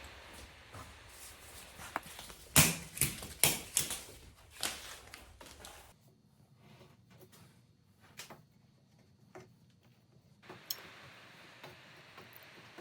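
A belt-type clamp ratchets tight around freshly glued snare drum staves, giving a burst of sharp, rapid clicks and ticks up close, then sparser faint clicks against quiet.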